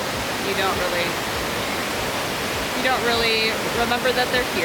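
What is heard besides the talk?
waterfall at Graveyard Fields Lower Falls, Blue Ridge Parkway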